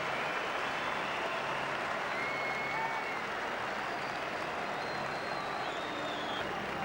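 Sustained crowd applause at a 1997 Super 12 rugby match as a player leaves the field, a steady dense wash of clapping from the stands, fairly distant and even throughout.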